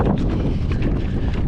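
Wind roars across the microphone on a cold, wet, rainy day outdoors during a long run, a steady low buffeting rumble that fills the whole stretch with no voices.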